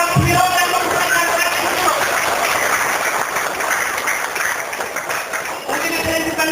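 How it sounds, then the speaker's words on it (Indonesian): Crowd applause at a large reunion gathering of PSHT members, sustained clapping heard loudly throughout with a voice speaking briefly at the start. "Ya, tepuk tangan buat beliau yang memberikan"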